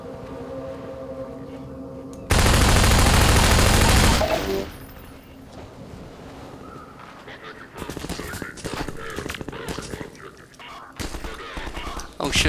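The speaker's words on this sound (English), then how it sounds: "someone's shooting from me behind." Video game gunfire: a dense, loud burst of automatic fire lasting about two seconds, then quieter engine-like rumble and rattling bursts later, with occasional talk.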